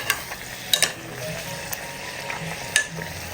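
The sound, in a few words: frying puri (Indian bread) in oil in a pressure cooker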